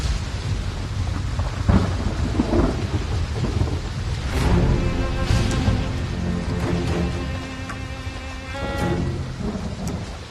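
Heavy rain pours steadily on surfaces while deep thunder rumbles and rolls throughout, a loud, continuous storm with no voices.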